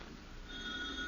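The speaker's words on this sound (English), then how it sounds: "The telephone's ringing." Telephone ringing in a 1953 family sitcom home, faint and distant tones over a low background hiss, no talking.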